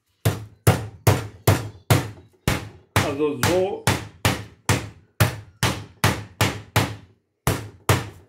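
Meat mallet pounding chicken cutlets under foil for cordon bleu, about seventeen steady, close, loud thuds in a regular rhythm, with a brief burst of talk partway through.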